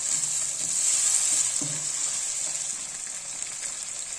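Green chickpeas fry with spices in a hot pan, giving a steady, close sizzle with a couple of soft stirring knocks and no talking.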